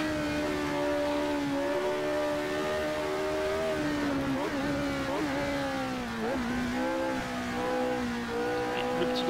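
In Assetto Corsa, the McLaren M23 Formula 1 car has a five-speed gearbox. Its engine wails loud and alone, with a sustained whine that dips and rises as it shifts and revs through corners.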